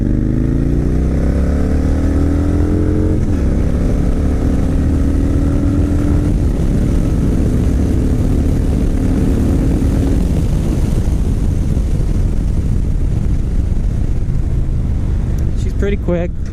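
A Victory Hammer motorcycle with belt drive accelerating hard on a private closed course, engine roaring up through rising pitch sweeps with gear changes, loud and close with wind rush throughout.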